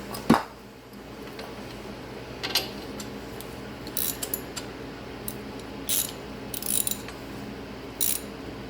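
Bolts are threaded by hand into a wheel bearing on a Saturn Ion: a sharp metallic clink at the start, then scattered light clicks and ratchet-like ticks, close and quiet, with no talk.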